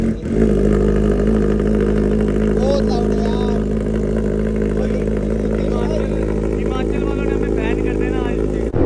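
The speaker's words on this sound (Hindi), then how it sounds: "अभी फिलहाल कोल्ड स्टार्ट करते हैं" Superbike on a Himachal road trip, cold-started and left running: a loud, steady engine drone close by that holds nearly even throughout, with voices faintly present beneath it.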